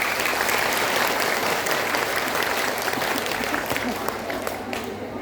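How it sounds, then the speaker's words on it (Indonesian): An audience applauds the organising committee at a religious talk, a dense, continuous wash of clapping that stays loud throughout and tapers slightly at the end, with some crowd noise and voices mixed in. "Tepuk tangan untuk panitia."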